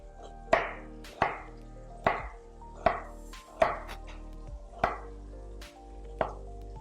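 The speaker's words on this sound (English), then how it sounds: "Get a more even product if you follow the curvature of the onion with your chop" A knife chops an onion on a cutting board in eight evenly spaced, sharp knocks, close and clear with nothing else sounding.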